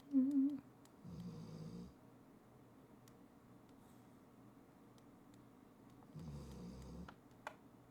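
A dog's big snores at home, two deep rasping breaths several seconds apart, fairly quiet and close against a still room with faint ticking clicks.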